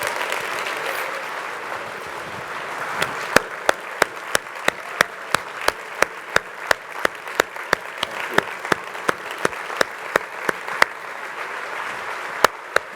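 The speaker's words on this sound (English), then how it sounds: "Let's give these folks a round of applause." Applause from a conference audience for a student panel at an innovator awards event rises as a dense, steady clatter, with sharp individual claps popping out rhythmically above the crowd throughout.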